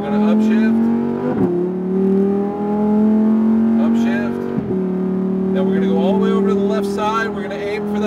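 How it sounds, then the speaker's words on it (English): A Lamborghini Huracan accelerates hard, its engine note climbing in pitch, dropping sharply at each quick upshift and climbing again, loud and close, with people talking over the roar. "Let's hold, hit the gas. Then we're going to upshift."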